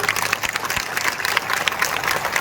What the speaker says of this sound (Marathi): जेवढ्या टाळ्या पाण्यासाठी वाजल्या तेवढ्याच विजयाच्या टाळ्या यांच्यासाठी वाजल्या पाहिजेत